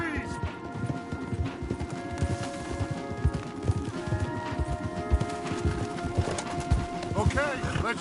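Horses walk along a wooded trail, their hooves clip-clopping in a steady, close, uneven rhythm while people talk over the sound and a bird calls faintly.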